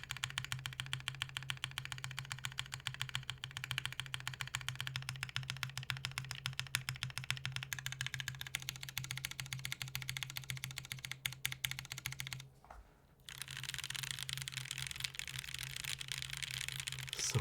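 Typing on a TGR Jane V2 mechanical keyboard fitted with lubed Gateron Ink switches, a dense, steady run of close keystrokes that pauses briefly near the end before resuming.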